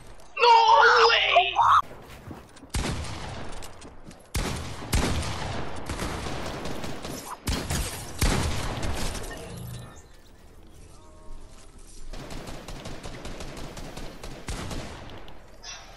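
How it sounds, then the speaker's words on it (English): Rapid bursts of gunfire from the Fortnite video game crackle and stutter across the whole stretch, loud and close, with shouting voices over the shots. "Who the fuck is shooting at me?"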